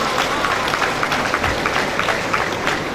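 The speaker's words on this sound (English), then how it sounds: "Can we clap for them?" An audience at a National Association of Accountants of Nigeria event applauds with a steady, moderately loud patter of clapping from many hands, spread evenly across a few seconds.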